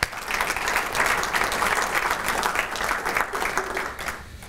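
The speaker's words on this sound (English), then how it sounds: "Give him a round of applause, please." An audience in a presentation hall claps after a talk, a dense burst of many hands that rises quickly, holds steady and then tapers off, close and loud.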